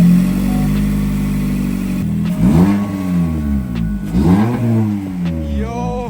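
A 2018-2024 Toyota Camry fitted with an AEM cold air intake starts up for the first time: a loud, close steady idle drone, then two rising revs that swell and fall back, with a brief whine at the end.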